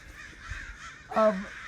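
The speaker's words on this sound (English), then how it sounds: "what is happening with these crows?" A crow caws once outside a house in a residential neighborhood, a single short, harsh call close by over a faint background hum.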